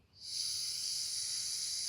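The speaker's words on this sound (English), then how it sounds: "So I'm going to go ahead and start my gas stove." A small gas camping stove starts with an abrupt steady hiss that continues evenly, fairly close and moderately loud, with no voices.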